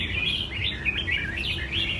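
A red-whiskered bulbul sings steady, bright chirping phrases that carry on without a break, close and fairly loud over a low background rumble.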